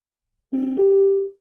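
A Toocki K07 Bluetooth speaker sounds its connection tone: a short two-step electronic chime, a lower note rising to a sustained higher one, clear and alone for about a second.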